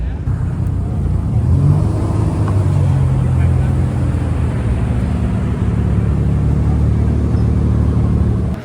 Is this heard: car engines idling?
yes